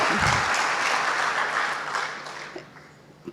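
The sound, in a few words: audience applause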